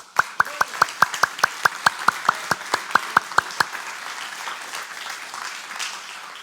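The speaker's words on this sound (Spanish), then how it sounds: "Dele palmas a Cristo." A church congregation claps in unison, about sixteen sharp, evenly spaced claps in a quick steady rhythm that stop abruptly halfway through, leaving quiet room tone.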